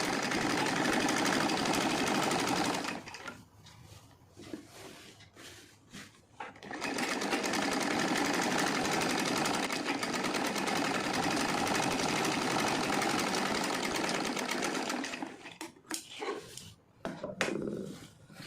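Sewing machine stitching a line over folded silk saree fabric, a steady loud motorized whir running in two long bursts with a short pause between, the needle's rapid rhythm continuous and close.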